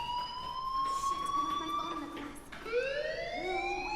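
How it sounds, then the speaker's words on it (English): A fire alarm rings in the video game Life Is Strange, a steady electronic wail that slides and restarts near the end, moderately loud with faint background murmur beneath it. "Hey, do you hear that fire alarm?"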